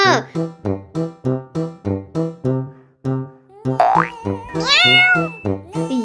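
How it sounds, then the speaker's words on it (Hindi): A kitten meows repeatedly in a steady rhythm of short, close, loud mews, about a dozen in a row, followed by a longer rising, higher-pitched cry and a few more quick meows. "अरे ये बिल्ली का बच्चा कहाँ चला गया? आवाज तो यहीं से आ रही है।"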